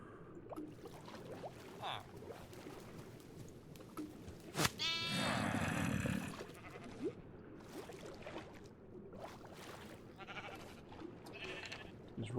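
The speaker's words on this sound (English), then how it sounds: "Get that sheep into position before it grows up." A sheep in the Minecraft video game bleats once, a loud wavering baa lasting over a second, set against quiet splashing water and soft game ambience.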